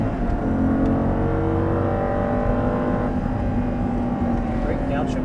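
Audi R8 engine pulling hard on a cone-marked track, a steady loud roar with rising harmonic tones as the car accelerates and shifts up, while an instructor talks over it.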